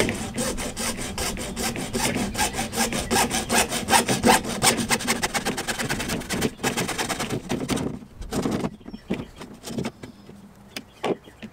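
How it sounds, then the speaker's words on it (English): PVC pipe is cut with a hand saw, steady rapid back-and-forth rasping strokes close by for about eight seconds, then a few slower, scattered strokes and pauses as the cut finishes. "Let's go cut some PVC pipe."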